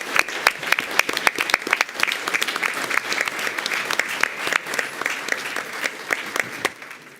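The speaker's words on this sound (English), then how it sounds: "let's have a round of applause as our kids enter the room" Sustained audience applause fills the room as high school students walk in at a school board meeting, dense steady clapping from a large crowd that tapers slightly at the end.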